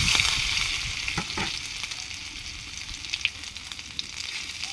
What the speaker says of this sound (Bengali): ডালে ফোড়ন দেব। সর্ষের তেল দিলাম, 5 ফোড়ন, রসুন, সেদ্ধ করা রসুন